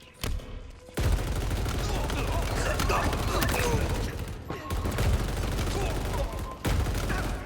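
Machine-gun fire in the Halo Infinite video game, sustained loud bursts of rapid automatic shots that cut off briefly and then resume.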